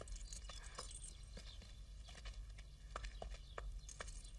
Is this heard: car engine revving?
no